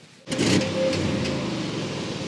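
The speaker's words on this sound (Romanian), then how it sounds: "Soft limiter, cam așa se aude." A 2024 Porsche Cayenne engine abruptly revs up and holds against the soft limiter, a steady bassy drone with faint stuttering cuts, close by.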